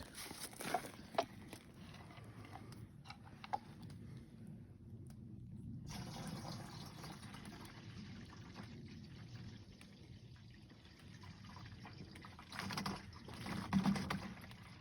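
Maple sap is poured into bottles in a quiet, steady stream, with soft splashing and a few gurgles swelling near the end.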